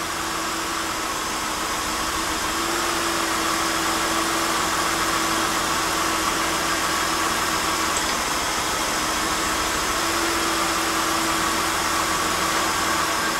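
A steady car engine idles with a broadband hum and a faint tonal whine, holding a constant level throughout with no voices, during a power balance test.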